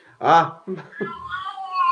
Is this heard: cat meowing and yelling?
yes